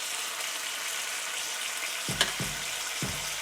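Yakitori chicken skewers cook in a pan with a soft continuous sizzle, then a few sharp clatters and knocks near the end as they are handled, with no one talking.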